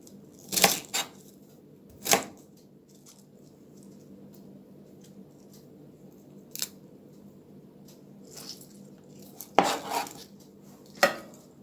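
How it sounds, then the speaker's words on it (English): Half a cabbage being roughly chopped into large pieces with a knife, heard as a few sharp, close thuds and clacks on a board, separated by quiet pauses. "I'm finished cutting up the half of the cabbage"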